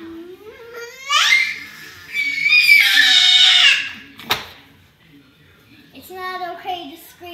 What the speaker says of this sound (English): It's not okay to scream.